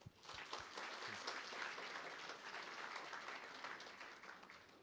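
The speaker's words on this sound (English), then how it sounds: "So a round of applause," An audience at a children's hospital fourth anniversary celebration applauds in a sustained, even wash of clapping, fairly soft and distant, with no voices over it.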